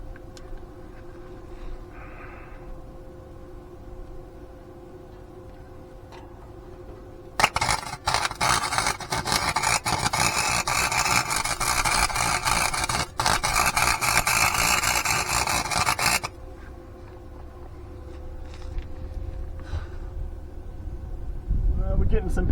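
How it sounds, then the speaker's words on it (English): Arc welder turned to maximum power on exhaust smoke stacks for a 1984 Ford F-350, a loud, harsh crackling buzz that lasts about nine seconds, with someone talking before and after it. "I'm going to go with maximum power on the welder"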